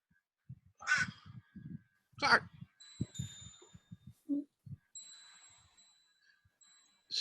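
Crows at an outdoor block party caw in a few loud, close bursts, separated by low thumping knocks and a thin sustained tone.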